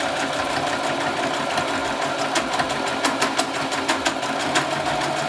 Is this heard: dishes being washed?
no